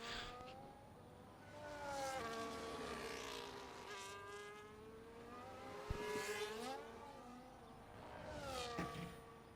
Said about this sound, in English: we've got cars trickling out on track at the moment